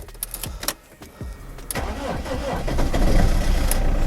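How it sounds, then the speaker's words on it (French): A BMW E46 idle for three years cranks with a few struggling turns before its engine catches, then settles into a rough, rising idle close by. "J'en profiter pour démarrer la voiture. Ça fait 3 ans qu'elle n'a pas tourné, la petite."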